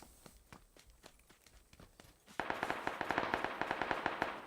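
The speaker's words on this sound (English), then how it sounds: "Shot's very close." A close gunshot in PUBG on Xbox, a sharp report around the midpoint followed by a burst of dense crackling reports and rapid impacts, loud and near over a background of in-game footsteps.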